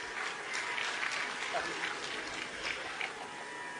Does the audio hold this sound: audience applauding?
yes